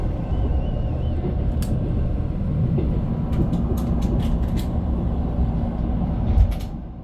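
Inside a passenger train on a long Gangwon-do mountain line, a steady rumble and rattle of rolling wheels continues throughout, with faint clicks and squeaks scattered over it.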